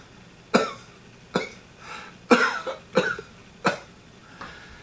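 A woman has a coughing fit: about six sharp, hacking coughs, spaced roughly evenly and close to the microphone, with quiet background between them.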